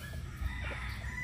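A Gilmore gamecock rooster crows once, brief and fairly faint, over a low, steady background hum.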